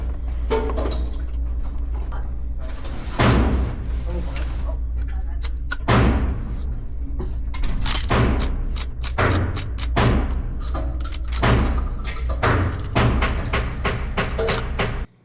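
Rossi R92 lever-action rifle in 454 Casull cycling cartridges that fail to chamber properly: repeated close metallic clacks and thuds of the lever and action in irregular bursts, with quiet handling noise between them.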